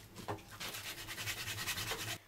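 Close, continuous rasping of coarse 50-grit sandpaper rubbed back and forth over a wooden natural-fork slingshot, a steady run of quick strokes that stops abruptly near the end, with no talking.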